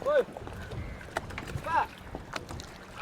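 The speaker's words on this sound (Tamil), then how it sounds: "இப்போ ஒரு போட் ஒன்று வந்தது" A boat carrying crabs arrives at a small fishing harbour in Velanai, Jaffna. Its sound is faint and mixed with wind and outdoor noise, and people talk nearby.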